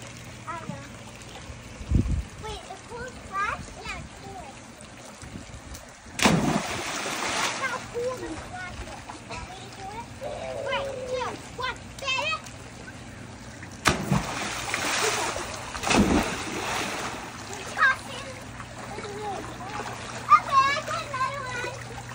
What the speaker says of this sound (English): But the coolest splash.